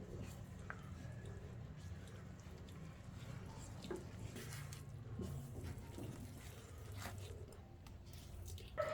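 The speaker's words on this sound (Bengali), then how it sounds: "এখন এটা নেড়ে মিশিয়ে নেব" A spoon works through a sandesh mixture of fried flour, milk powder, milk and cardamom in a pan, giving faint, soft squishing and scraping sounds at a steady pace, close by, under a low background hum with no talk.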